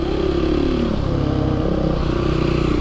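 Husqvarna SMR 510 motorcycle engine pulling hard under acceleration, a loud continuous close rasp that holds steady throughout with no pauses.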